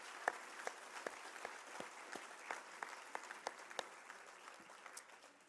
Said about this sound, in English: All of these tremendous supporters of J Street and admirers of Carol deserve a round of applause